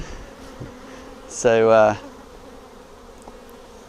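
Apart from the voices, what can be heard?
honey bees buzzing around a Flow hive frame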